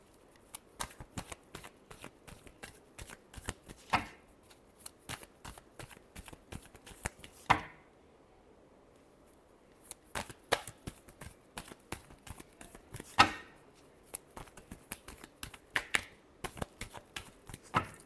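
Tarot cards being shuffled in a long run of dense riffling clicks and flutters, broken by a couple of brief pauses and sharp slaps, close and fairly quiet with no speech.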